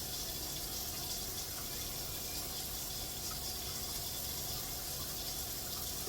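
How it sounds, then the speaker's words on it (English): Water runs steadily through a sink drain pipe after a clog has been cleared, a constant even rushing hiss with no breaks and no voices. "the water flowing through the pipe."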